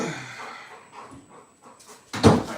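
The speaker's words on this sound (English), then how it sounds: "you gotta stop barking, all right?" Pet dog named Milo indoors, whimpering and panting close by in a short, restless run, ending in one louder sharp bark-like burst.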